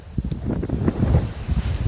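Strong gusty wind buffeting a microphone outdoors on a freezing day, a steady low roar with rustling surges that swell and fade throughout.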